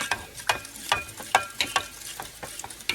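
Cornstarch and water being mixed into a slurry in a bowl: a quick run of rhythmic clinking and scraping strokes from a utensil against the bowl, steady and fairly close, with no talking.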